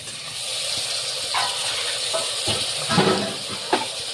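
Chopped cabbage hits hot cooked spices in a pan for veg pulao and sets off a steady sizzling hiss, with a few soft clatters and scrapes scattered over it.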